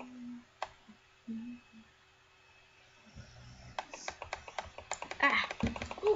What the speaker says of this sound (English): I do apologize if you can hear me clicking.